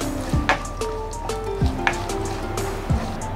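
Chopped coconut pieces fry in a pan for a butternut squash payasam, giving a steady close sizzle with several scraping clinks of a spatula stirring them.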